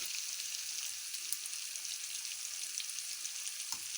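Onions frying with turmeric and salt for a fish curry give off a steady, even sizzle, close and moderately loud, with one faint clink of a utensil near the end.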